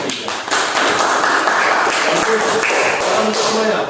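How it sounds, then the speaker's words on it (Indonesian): Classroom applause for a student group after their presentation: a steady patter of many hands clapping together for several seconds, fairly close and loud, with a voice speaking over it. "tepuk tangan buat kelompok 3"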